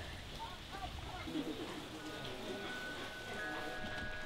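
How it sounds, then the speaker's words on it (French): Heavy rain in Vietnam pours down nearby, a constant hiss of drops on surfaces, with faint voices and a few thin tones in the background. "Il pleut fort."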